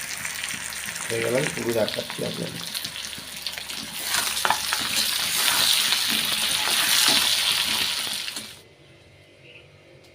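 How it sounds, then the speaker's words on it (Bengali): Eggs and potatoes fry together in a pan for an egg curry, a loud steady sizzle with stirring scrapes, and a person speaks briefly over it before the frying cuts off near the end. "ডিম আর আলু একসাথে আমি ভেজে নিচ্ছি আগে, হালকা ভেজে নিতে হবে।"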